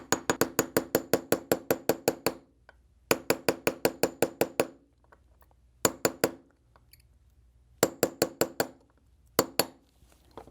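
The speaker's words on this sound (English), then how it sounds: "We can take our 1/8 inch punch, get it right on that pin, and tap it the rest of the way in." A 1/8 inch punch taps a pin home during a trigger spring kit installation on a Ruger LCP 2 pistol: quick bursts of sharp metallic strikes, several rapid runs followed by shorter pairs, close and crisp with quiet gaps between.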